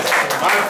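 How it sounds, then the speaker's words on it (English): A short burst of audience applause from a group at Nazareth Village in Israel, loud and close, lasting under a second. "Give the man a round of applause!"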